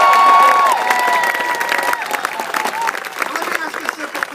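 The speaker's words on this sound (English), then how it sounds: "A big round of applause for Jenny Beth-Martin and the Tea Party Patr" An audience at a Tea Party Patriots political rally bursts into loud applause and cheering, a dense wash of clapping and shouts that fills the room and gradually thins.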